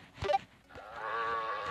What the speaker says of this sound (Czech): Jej, ovce. Hnědá ovce.